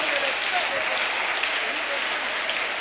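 A church congregation at a Bible seminar applauds and cheers in a continuous wash of clapping, moderately distant, steady for the whole stretch with a few faint voices mixed in.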